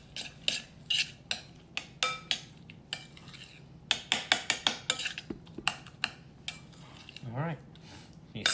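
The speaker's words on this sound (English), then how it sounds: "we're going to mix them together to let them meld and let the flavors come together" Ingredients stirred together in a bowl with a utensil, a string of sharp clinks and scrapes against the bowl in irregular bursts, near and distinct, with a faint voice briefly in the background.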